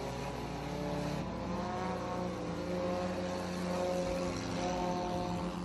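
Bomber-division stock race cars thunder off turn four onto the front stretch of a dirt oval at The Big O, a sustained loud engine roar with shifting tones and no commentary over it.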